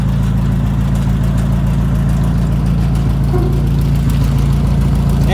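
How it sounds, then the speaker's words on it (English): A 1958 Willys DJ-3A Dispatcher engine runs with no muffler, a loud, steady, rough idle with a deep throbbing pulse that holds for the whole stretch, with a slight rise in revs near the end. "Obviously it needs a muffler, but I'll be damned if she ain't a runner."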